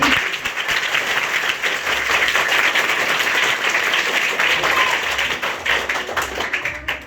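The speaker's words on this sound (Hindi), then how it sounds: "तो आप लोगों ने ताली बजाई, रिकॉर्डिंग हुआ, एक बार जोर से बजाओ" Loud, sustained clapping from an audience at a gathering in Surat, many hands beating fast and evenly for several seconds without pause.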